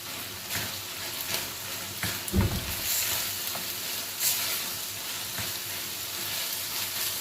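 Steady sizzling and frying of green and red peppers in a hot pan, with occasional stirring scrapes and clatters, continuous and close, no voices.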